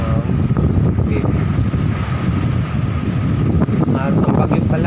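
Strong wind and rough, murky waves off the Batangas coast during Typhoon Florita, a continuous loud roar of gusts buffeting the microphone over crashing surf.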